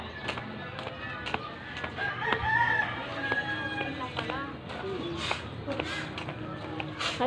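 A rooster crows several times close by outdoors on a village morning walk, its calls rising over scattered clucking and background activity.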